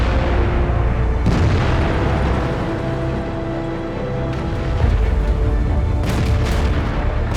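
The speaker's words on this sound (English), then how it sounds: "the first move of many players is to fire at the lower plate" Tank cannon fire in World of Tanks, with heavy booming shots hitting the lower front plate of a T26E4 Super Pershing. Loud, dense rumbling blasts run throughout, with sharper bursts standing out near the start and toward the end.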